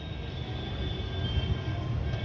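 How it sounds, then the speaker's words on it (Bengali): A local train from Sealdah rolls past near Garia station, a steady continuous rumble of wheels and carriages throughout, moderately close with no talk over it. "এই ট্রেন, এটা হচ্ছে লোকাল ট্রেন, এটা যাচ্ছে গড়িয়া স্টেশন"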